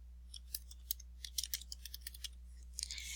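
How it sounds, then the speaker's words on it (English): A search typed on a computer keyboard, a quiet run of quick, crisp key clicks in an uneven rhythm, over a low steady hum, ending in a brief burst of faster taps. "For this demonstration, I'm going to type in Langston Hughes"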